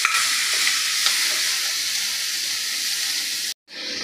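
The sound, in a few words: cluster beans being sautéed in a pan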